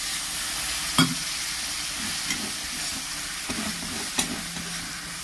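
Ground turmeric, cumin and coriander frying in oil with a splash of water for a cauliflower and potato curry hiss steadily up close, with a few sharp knocks and scrapes of stirring, no voices.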